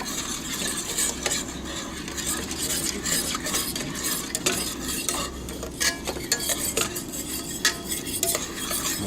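Cream sauce for pepper steak stirred in a pan with tongs over lowered heat, quick repeated metallic clicks and scrapes over a soft bubbling sizzle, close and with no voices.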